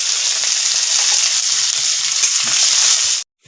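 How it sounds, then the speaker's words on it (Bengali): Chopped onions frying in hot mustard oil with cloves, cardamom and cinnamon in a wok, a steady loud sizzle with faint stirring scrapes that cuts off abruptly near the end. "পেঁয়াজটা ভাজা হয়ে গেছে, এখন মাংসটা দিয়ে দেব।"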